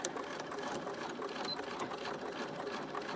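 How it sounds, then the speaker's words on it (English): Sewing machine running steadily as it stitches a fabric project, likely a farmhouse jar mug maker piece; a continuous close, even mechanical whir with no talking. "I just want to try to make sure I'm not sewing it crooked"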